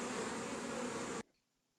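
Honey bees buzz densely at a beehive, a loud, steady swarm hum lasting just over a second before cutting off abruptly into near silence.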